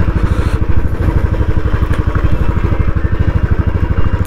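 A motorcycle rides along a hill road near Nainital, its engine a close, loud, rapid chugging pulse that stays steady throughout, with no talking over it.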